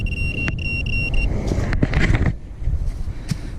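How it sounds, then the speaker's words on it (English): A Minelab Pro-Find 35 pinpointer probing a dig hole for a rusty bolt gives a steady, shrill ferrous tone in quick pulses, then falls quiet. Gritty scraping and knocks of digging in soil follow. "I can hear that ferrous tone ID kicking in"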